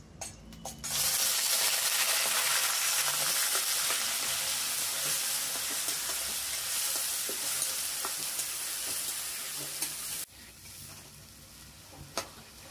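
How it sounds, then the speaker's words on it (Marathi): Coarsely ground onion sizzles loudly and steadily in hot oil in a pan, a continuous frying hiss that starts abruptly and softens near the end. "आता हा आपण जाडसर वाटून घेतलेला कांदा घालते"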